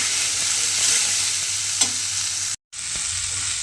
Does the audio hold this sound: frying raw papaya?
yes